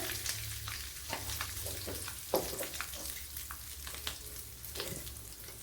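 Curry leaves and turmeric frying in oil in a pan, a soft, fairly faint sizzle broken by a few sharper crackles and stirring scrapes, with no talking.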